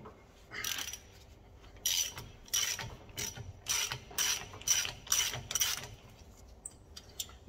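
A hand ratchet clicks on 12 mm bolts during a brake disc and pad change on an Abarth 595, several short bursts of rapid clicking, close and quiet.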